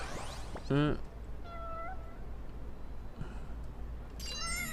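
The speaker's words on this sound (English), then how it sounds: "It's the white cat again" A white cat in the Lost Judgment game lets out a loud, drawn-out meow followed by softer mews, then a final meow, with a voice and game background under it.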